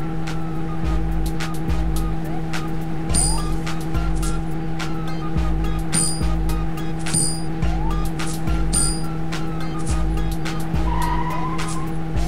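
Cartoon car chasing a criminal's getaway car in a kids' driving game, a steady engine hum under repeating game music, punctuated by several short tire squeals and skid effects spaced through the run.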